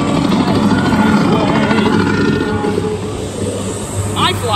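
An Amutec Postman Pat SDS Special Delivery Service helicopter kiddie ride in operation, giving a loud, steady mechanical hum and whir with a brief chirping effect near the end.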